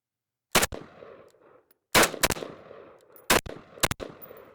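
A Sig 553P rifle fires a few loud, close shots in spaced groups, a single shot then doubles, each sharp report followed by a brief echoing tail.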